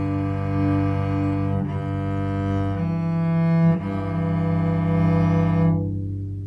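Bowed cello playing grade 3/4 warm-up notes, a few long sustained tones with rich harmonics changing pitch in steps, played alone up close.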